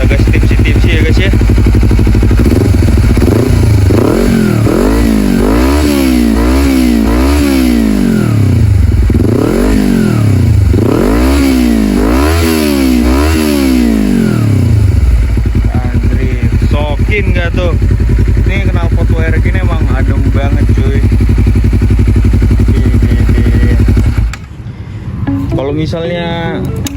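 A motorcycle engine with a loud open aftermarket exhaust revs hard in repeated rising and falling bursts for about fifteen seconds, then settles into a rougher idle close to the mic, with a voice talking over it.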